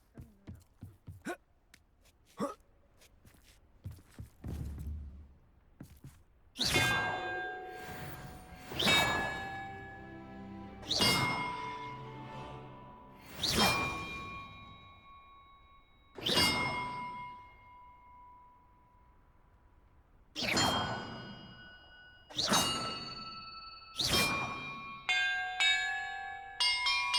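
Bells rung one after another in Hogwarts Legacy, each a loud struck clang with a long ringing decay, about nine strikes spaced unevenly after a few quieter taps and a soft whoosh at the start.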